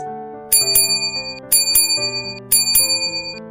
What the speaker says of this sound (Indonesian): Ia menekan bel pintu berulang kali sambil mengetuk keras.